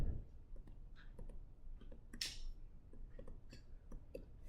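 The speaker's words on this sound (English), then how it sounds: "this is what I am plugging into the calculator" Quiet, irregular clicks of calculator keys being pressed one after another during a physics calculation, with a sharper tap partway through and low background hum.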